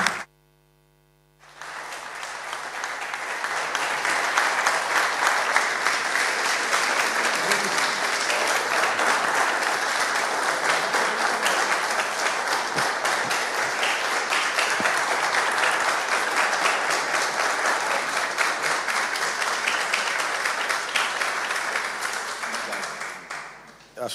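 After a brief quiet moment, a seated audience at a legal forum bursts into sustained, even applause that holds strong for over twenty seconds before tapering slightly at the end, with a faint electrical hum underneath.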